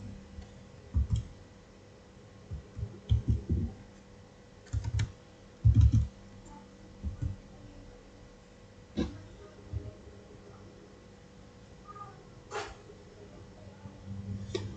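Typing on a computer keyboard while entering a netstat command, with irregular bursts of key clicks and taps that rise and fall over the clip, fairly close and moderately loud with a faint background hum.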